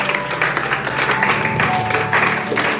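A congregation claps and cheers in a church service, steady applause swelling in waves with some shouting voices mixed in.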